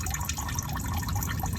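Sprite pouring into a car engine while flushing it after an oil change, a close, continuous liquid gurgle and splash with small dripping bursts throughout the short stretch.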